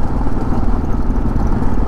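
A 2022 Kawasaki KLR 650 adventure motorcycle rides on a gravel road, its engine droning steadily and loud up close with a rough, pulsing rumble throughout.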